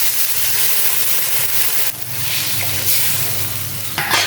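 A fish curry of hilsa and taro simmers in a pan after water is added, giving a loud, continuous bubbling sizzle with a brief clatter near the end.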